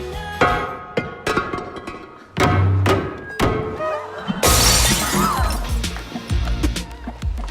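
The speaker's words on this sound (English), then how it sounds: "Come on, it's vase breaking time." A vase smashed at a wedding: a few thumps and knocks build to a loud, bright shatter of breaking pieces, followed by scattered tinkling and clattering fragments settling.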